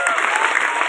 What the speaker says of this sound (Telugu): సాయి ప్రవీణ్ కి బిగ్ క్లాప్స్.